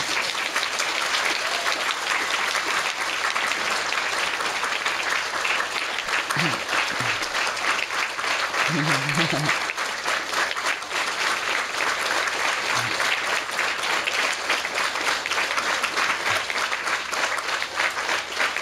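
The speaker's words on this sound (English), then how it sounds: "People don't buy the video just to see you clap." Sustained applause from a lecture audience, dense continuous clapping that fills the whole stretch at an even, steady loudness, with a few faint voices briefly surfacing midway.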